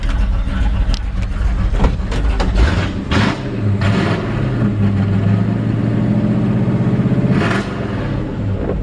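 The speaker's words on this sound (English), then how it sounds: "This thing has a nasty sounding engine in it." A 1955 Ford F-100 truck idles with a rough, throaty rumble, close and loud, with a few brief revs and mechanical clicks over the steady low engine note.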